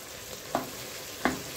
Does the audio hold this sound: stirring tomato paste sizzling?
yes